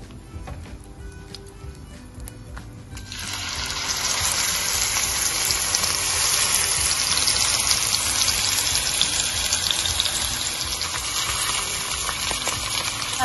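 Veal pieces hit a hot pan and burst into a loud, steady sizzle after a few quiet seconds, the bright hiss holding on continuously with faint crackles.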